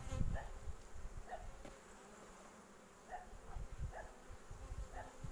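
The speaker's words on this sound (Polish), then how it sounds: "No masa tej pszczoły." Honey bees from a strong colony hum softly during a hive inspection with honey frames in the super, a faint, continuous, close buzz with occasional louder passes of individual bees.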